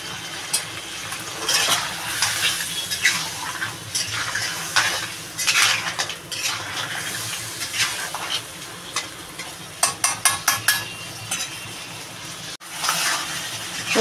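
Crab stir-fries in a pan with a constant sizzle, while a utensil scrapes and stirs in repeated strokes and metal clinks, including a quick run of taps near the end.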